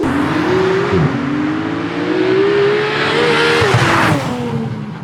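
A loud, close Porsche 911 GT3 engine revs high and rises in pitch through the gears, roaring continuously with brief dips between shifts.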